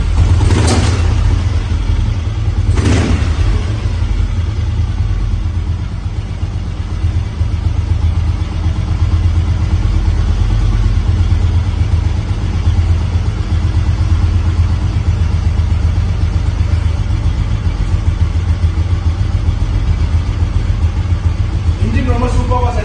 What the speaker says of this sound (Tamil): இன்ஜின் சூப்பரா செட் ஆயிருக்கு. சோ நான் ஸ்டார்ட் பண்ணி காமிக்கிறேன் பாருங்க.